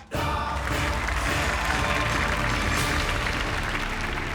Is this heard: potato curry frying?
no